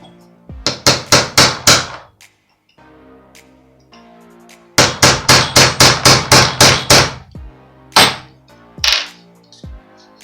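Sharp, close metal-on-metal hammer blows flatten a small metal tube while a horse's joint is repaired. A quick run of about six evenly spaced strikes comes first, then a pause, then a longer run of about eight, then a few separate knocks.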